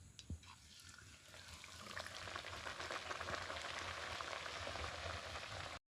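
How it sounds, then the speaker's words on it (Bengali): Nan puri dough dropped into hot oil sets off a loud, steady bubbling and frying sizzle that swells after a brief quieter start and holds until it cuts off abruptly. "তো এবার তেলটা গরম হয়ে গেছে, আমি এবার তেলের মধ্যে নানপুরিগুলোকে ছেড়ে দেবো।"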